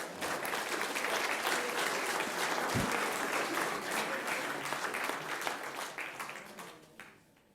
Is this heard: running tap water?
no